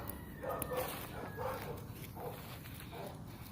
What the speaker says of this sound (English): This Blue Boy, this is the other dog that I kept.